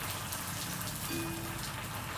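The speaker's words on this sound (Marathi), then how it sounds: "पुदिना तळायला घातले आता हे." A steady, fine crackling sizzle of mint leaves frying crisp in hot oil, even and continuous throughout.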